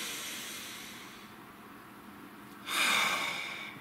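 A single deep breath, drawn in as a soft, close airy inhale that swells near the end, with no talking.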